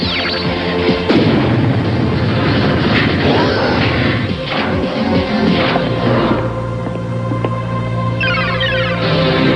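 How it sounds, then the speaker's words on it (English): Animated spacecraft thrusters firing for liftoff in the Teknoman anime, a loud roaring rumble with crashing, booming bursts and whooshes layered over dramatic score for the whole stretch. "Prepare for liftoff."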